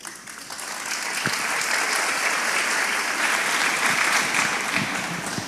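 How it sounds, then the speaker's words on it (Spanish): An audience applauds in a church gathering, a dense steady clapping that swells after a moment and holds loud and close before easing slightly, with no talking over it. "Bien, aplausos."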